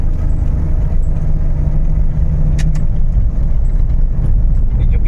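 A Suzuki Every Wagon overtakes on a highway, a steady engine and road drone with low rumble throughout and a brief sharp click partway through.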